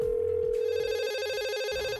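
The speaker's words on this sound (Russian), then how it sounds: "Денис, это старый телефон" An old telephone rings with a steady electric bell tone, loud and close, pulsing in bursts with no voices.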